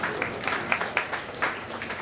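A crowd at a protest rally in India claps, a faint and fairly distant wash of applause with scattered louder individual claps standing out.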